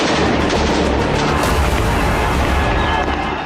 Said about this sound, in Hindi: देखिए, दोनों गुट के लड़ाके एक दूसरे पर किस तरह से अंधाधुंध गोलियां बरसा रहे हैं।